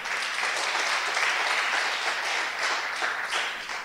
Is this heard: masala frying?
no